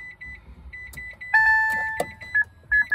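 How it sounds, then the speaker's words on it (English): A Mitsubishi i-MiEV electric car with a replaced battery pack beeps on startup: several short, clear electronic tones, then a longer sustained chime and more quick beeps, close and loud. "It's beeping, that's a good sign."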